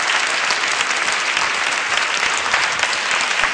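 A studio audience at the 2009 Bulgarian Dancing Stars show applauds steadily, a dense, loud, continuous wash of many clapping hands with no talk standing out.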